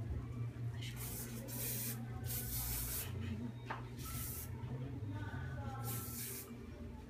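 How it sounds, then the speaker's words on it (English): Short hissing bursts of hairspray come in several puffs, close by, sprayed onto hair, over a low background rumble. "I'm going to spray it a little bit."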